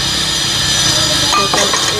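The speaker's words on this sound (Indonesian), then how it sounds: "Maaf teman-teman, ada suara las ya, karena ini dekat" Welding at a nearby construction site beside a roadside meatball-soup stall in a forest, a constant harsh hiss and buzz filling the background with occasional metallic clinks near the end.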